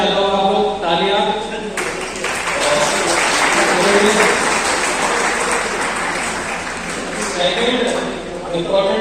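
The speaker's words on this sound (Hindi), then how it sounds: "तो एक बार मैं चाहता हूँ आप लोग तालियां" Audience applause at a medical conference on eye diseases, rising into a full, dense burst of clapping in the middle while a speaker's voice is heard before and after.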